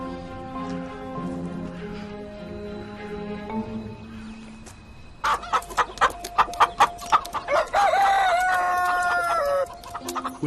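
Chickens cluck and a rooster crows at a farm where birds are bred for eggs. A softer, steady start gives way after about five seconds to a loud, busy run of sharp, repeated calls.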